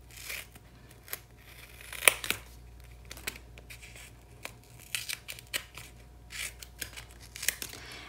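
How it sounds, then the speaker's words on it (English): Scissors snip off excess double-sided adhesive during card and invitation paper crafting, a series of sharp, close cuts spaced irregularly with faint paper crinkling between them. "just cut off the excess that I don't need"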